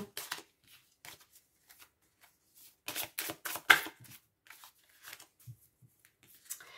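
Tarot cards are shuffled by hand in short, quiet, close riffling bursts, with soft pauses between, a denser flurry of several quick shuffles in the middle, and scattered lighter card flicks.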